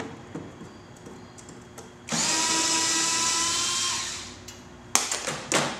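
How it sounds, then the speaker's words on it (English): A power driver whines steadily for about two seconds while backing screws out of a fiberglass part, followed by a few sharp knocks and clatters nearby, with no talking. "So we're just going to take the screws out."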